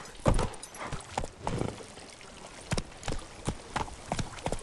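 Horse hooves in The Witcher 3 video game, a string of sharp clip-clop hoofbeats in a quick uneven rhythm, moderately close and alone.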